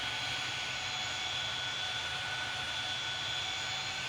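A jet airliner in Tower! Simulator 3 spools up for takeoff from runway 24 left at Cleveland, a steady, even engine roar with a high whine on top, continuous and fairly distant.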